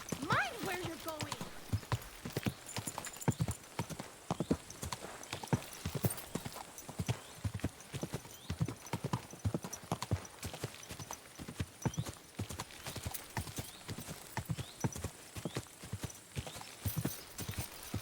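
A horse in the medieval video game Kingdom Come: Deliverance II clip-clops along at a steady walking rhythm, its hoofbeats close and continuous for the whole stretch, with a brief whinny near the start.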